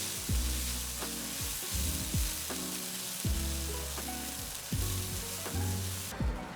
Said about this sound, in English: You take your rinsed rice and then you add it to the frying cumin.